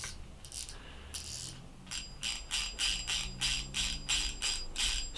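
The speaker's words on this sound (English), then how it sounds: "Smooth feeling drag. Let's open it up a little bit." An Okuma Avenger ABF baitfeeder spinning reel's drag gives off a rapid series of evenly spaced ratcheting clicks as line is pulled, close and crisp, with a brief quieter stretch before the steady clicking starts.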